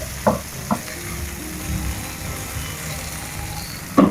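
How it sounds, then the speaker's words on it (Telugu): Green chillies and coriander leaves frying lightly in oil in a pan, a steady low sizzle with a few sharp clinks of a spoon against the pan at the start and end. "ఇప్పుడు వీటిని లైట్గా ఫ్రై చేసుకోవాలి ఇక నూనెలా"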